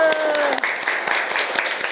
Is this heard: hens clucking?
no